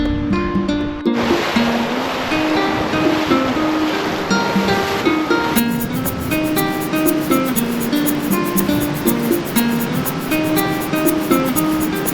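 A river flows hard during a goat and red deer hunting trip upstream, a steady rushing wash of water heard under prominent music throughout.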